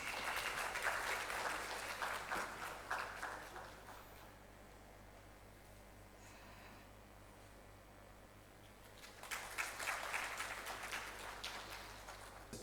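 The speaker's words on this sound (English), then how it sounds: "Let's give a round of applause." An audience at a research methodology session claps in two bursts, a loud round of applause that fades after about four seconds and returns strongly near the end, with quiet room tone between.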